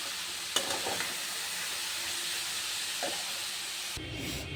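Egg is stirred into onions and cabbage frying in a pan, giving a steady, fairly soft sizzle with occasional spatula clinks and scrapes. No voices are heard.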